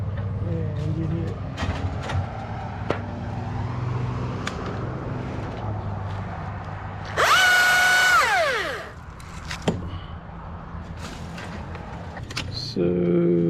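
A power saw cuts a large tree limb hanging over a house, its engine loud and steady with a rising whine in the middle and another burst near the end, heard from close by alongside occasional knocks.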